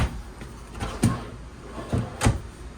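Kitchen drawers in a 2024 Forest River Salem Hemisphere 271RL travel trailer slide open and shut, giving several short knocks and thuds spaced about a second apart at close range, with no talk.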